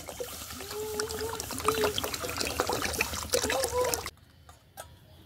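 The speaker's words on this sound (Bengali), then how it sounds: "কড়াই আমি জল দিয়ে দিচ্ছি" Water poured into a wok for steaming momos, a close gurgling, trickling pour with bubbly tones that runs for about four seconds before stopping abruptly.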